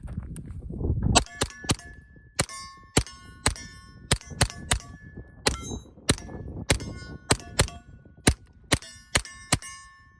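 A steady series of sharp, metallic clanging shots from a suppressed 9mm AR firing 147-grain subsonic rounds, about a dozen in ten seconds, each crisp and ringing, with no talk.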